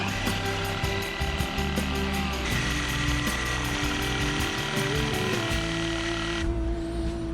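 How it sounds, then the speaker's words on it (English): A power drill bores holes into drone parts, giving a steady, loud mechanical whine with a faint rhythmic ticking that runs the whole way through, and a brief shift in pitch near the end. "I'm planning to drill the holes"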